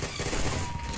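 Rapid gunfire in the Roblox shooter Arsenal, a dense one-second burst of overlapping shots.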